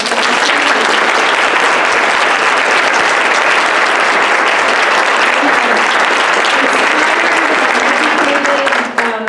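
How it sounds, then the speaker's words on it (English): A room of people at a community breakfast on racial equity in housing applauds the panelists, loud sustained clapping that holds evenly throughout and cuts off abruptly at the very end. "Please give me another round of applause for the panelists today."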